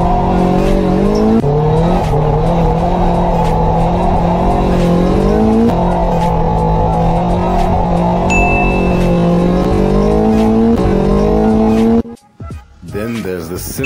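Drift car clutch-kick initiation: a loud engine revving steadily with sharp rises in pitch, tires squealing over it, then a sudden cut and a short burst of tire and engine noise at the end; a voice speaks throughout.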